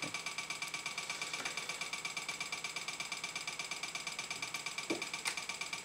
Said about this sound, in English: Yeah, it's a bit broken, so you might hear the fan rattle against something.